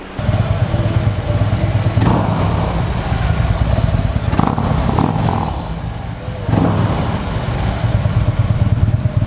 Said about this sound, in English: This is road glide Harley